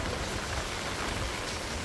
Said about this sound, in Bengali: সামনের দিক যাওয়া যেতেছে না, এত বেশি পরিমাণে বৃষ্টি